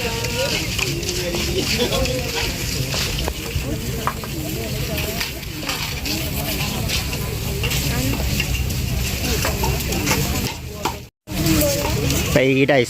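Khanom dok bua, Thai lotus-flower pastries, frying in hot oil, a loud continuous sizzle and bubbling with stirring, while a person talks throughout and a brief dropout near the end.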